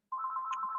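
A telephone ringtone chirps steadily for under a second, a sustained electronic tone with a brief higher blip partway through, heard alone with no talking.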